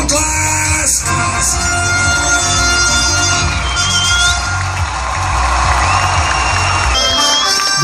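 Large outdoor crowd cheering and shouting at a City Cross Sprint race finish, loud and sustained, with amplified announcer speech over the top.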